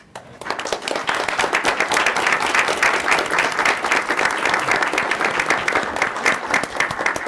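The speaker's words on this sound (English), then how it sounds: "I'd also like to extend a round of applause for our students' family members joining us today." Sustained applause from an audience at a school board meeting honoring students' family members, dense and steady clapping filling the room for about seven seconds after a quiet start, with no talk over it.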